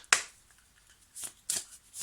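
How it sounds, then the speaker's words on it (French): An oracle card being drawn from a deck, heard as a few sharp, close papery flicks and swishes separated by brief quiet gaps. "Voilà, je vais prendre une carte"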